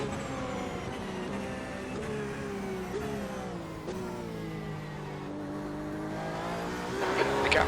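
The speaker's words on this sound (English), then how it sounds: "Okay, Dwayne, there's a faster class car approaching." Race car at Le Mans in a racing game, engine revving loud and close with pitch sweeping through gear changes and a brief tire squeal near the end, alone with no talk.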